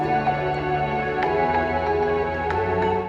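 A bright synth melody, pitched up an octave, plays in a high register, steady and sustained with layered tones, no voices.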